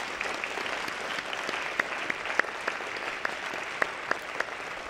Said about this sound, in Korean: 우리를 하나 되게 하신 하나님께 감사의 박수 드립시다